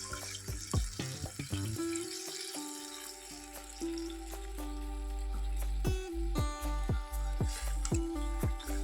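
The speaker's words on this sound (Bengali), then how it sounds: "এখন আমি জল দিয়ে দিচ্ছি" Water poured into a pan of fried curry masala for a potato and eggplant curry, a steady gushing pour with clinks and knocks of utensils against the pan, close and fairly loud.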